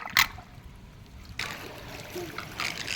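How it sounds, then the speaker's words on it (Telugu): Rainwater on a building's roof trickles and splashes close by as it drains, a short burst followed by a steadier running flow with small dribbling sounds. "ఈ పైన వాటర్ అంతా కిందకి వెళ్ళిపోతున్నది"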